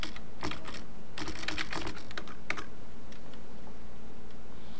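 Keys clatter on a computer keyboard while a new user's details are entered, a burst of quick irregular clicks in the first few seconds that thins out to a quiet background afterward.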